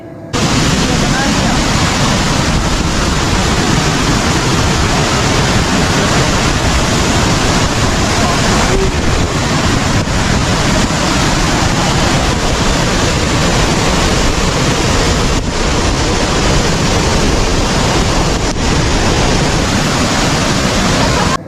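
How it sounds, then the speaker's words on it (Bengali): The large, three-tiered Elephant Falls in Meghalaya pours in a loud, unbroken roar of rushing water, heard from close in front and holding steady throughout. "নামের মতোই বিশাল বড় এই ঝর্ণাটা সামনে থেকে দেখতে সত্যি দারুণ লাগছিল"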